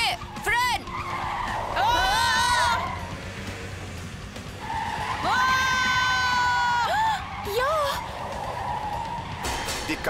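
Cartoon car tires screech in two long skids while braking hard, with shouting voices and an excited crowd around them and a shorter squeal near the end.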